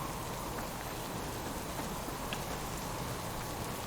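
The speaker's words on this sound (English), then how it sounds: "Pouring down with rain" Heavy rain pouring down at night in the survival video game Subsistence, a dense, steady hiss of drops on surfaces that continues unbroken throughout, with no voices.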